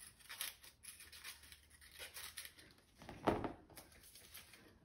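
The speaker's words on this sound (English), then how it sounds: "So what I'm gonna do is I'm gonna cut both in half." Scissors snip through a paper cupcake liner, cutting it in half, with quiet, close, irregular crisp cuts and one louder snip near the end.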